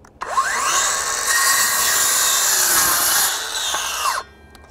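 A Kobalt 24-volt 6-1/2 inch cordless circular saw, powered by a 4 amp-hour battery and fitted with the stock 24-tooth blade, cuts through wood. It gives a loud, steady whine for about four seconds, with the pitch rising as it spins up and falling as it winds down.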